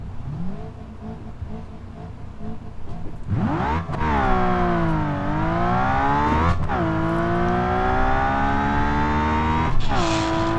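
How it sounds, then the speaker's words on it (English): In the BeamNG.drive video game, a high-revving inline six-cylinder race car engine screams loudly and steadily. Its pitch climbs and drops as sharp gear changes cut in, with a brief tire squeal. "This is extremely high revving inline 6-cylinder."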